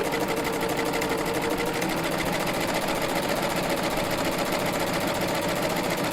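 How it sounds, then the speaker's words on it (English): A Baby Lock serger with a belt loop binder attachment runs at a steady fast whir while stitching belt loop strips, a close, even mechanical hum with a rapid needle rhythm and no pauses. "So I'm going to keep pushing in on my left here, and keep my right hand, keeping it flat here. And I'm going to keep stitching through."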